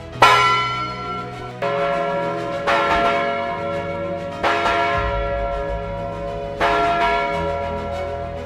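Big Ben's cracked bell strikes five times in slow succession, each heavy clang blooming into a long, slightly harsh humming decay that overlaps the next blow, loud and resonant with no voices.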